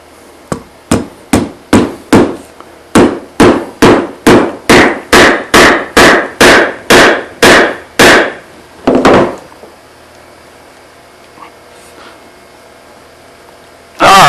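Dead blow mallet driving a wedge into an ash and walnut wooden mallet handle: about twenty sharp, evenly paced thuds close up and loud, then a final heavier knock and quiet.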